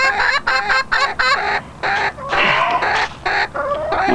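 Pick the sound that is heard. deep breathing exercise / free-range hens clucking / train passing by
free-range hens clucking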